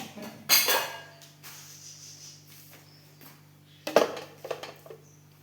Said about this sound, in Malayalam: അപ്പോൾ ഞാൻ മിക്സീൻ്റെ ജാർ വെക്കട്ടെ.